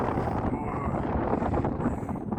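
Strong wind roars and buffets the microphone in a continuous rough rush over a field, with no clear voices.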